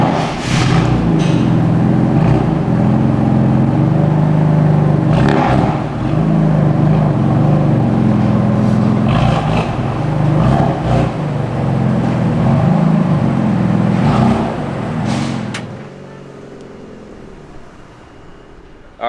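A BMW F80 M3 with a bad-sounding exhaust setup rumbles loudly and up close, with repeated revs and drones over about fifteen seconds before it drops away to quiet.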